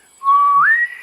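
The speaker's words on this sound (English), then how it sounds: "when I hear his whistle, I know he's on his way" A single clear whistle from a shepherd bringing his sheep down, a steady tone that bends upward into a higher sustained pitch, close and alone for about half a second.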